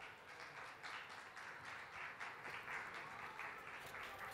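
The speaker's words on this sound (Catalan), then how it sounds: "Un aplaudiment per elles, si us plau." An audience at a Sant Jordi reading event claps in a steady, dense round of applause, faint and somewhat distant, sustained without pause.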